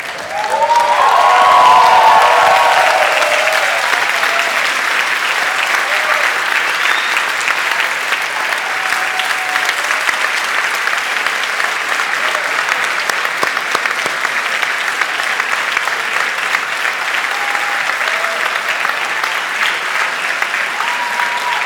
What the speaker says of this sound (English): give a warm round of applause to all the people that have supported you throughout these years